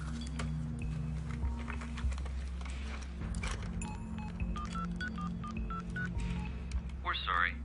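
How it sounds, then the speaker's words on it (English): Telephone number being dialed, a quick run of short DTMF keypad tones in an uneven rhythm, close and clear, followed by a brief warbling tone, over a low background hum. "I phoned her number."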